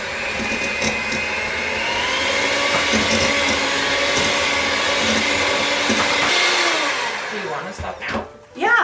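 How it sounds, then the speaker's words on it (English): Electric mixer on medium-high beating butter and lavender sugar for a gluten-free cake, a loud steady whirring motor close by that runs continuously before cutting off near the end, followed by clattering handling sounds. "cream together the butter and lavender sugar by beating them with an electric mixer on medium-high for about 5 minutes"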